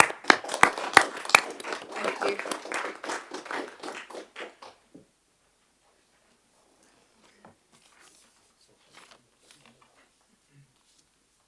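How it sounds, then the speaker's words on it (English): Brief burst of applause and clapping from people at a city council meeting, dense hand claps for about five seconds, then dying away into near silence with a few faint taps; a voice speaks briefly. "would it be thank you. appropriate if we give them a round of applause"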